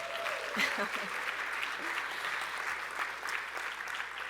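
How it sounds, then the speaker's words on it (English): A crowd claps steadily at a human rights awards gala in a dense, sustained wash of applause that holds evenly throughout, with a voice faintly audible beneath it. "Give yourselves a round of applause."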